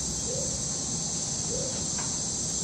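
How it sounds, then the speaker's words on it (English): Cicadas and crickets in the Panamanian rainforest keep up a steady, even high-pitched drone, with a couple of brief soft bird notes rising faintly beneath it. "And you can listen to some cicadas, the high frequencies,"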